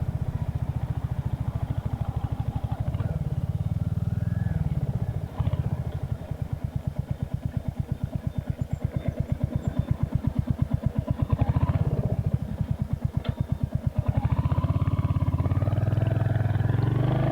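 A motorcycle called Spitfire, freshly given its six-month service, runs steadily while being ridden, its engine a continuous loud throb with a fast regular pulse, wind noise across it, and brief dips as the throttle shifts.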